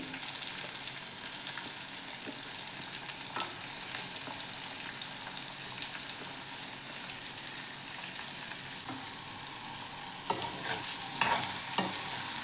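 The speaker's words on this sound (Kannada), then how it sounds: "ಈರುಳ್ಳಿನ ಸ್ವಲ್ಪ ಹುರ್ಕೋತೀನಿ" Onions frying in a pan for bitter gourd gojju, a steady bright hiss of oil with occasional scrapes and clacks of stirring, growing busier toward the end, with no voices.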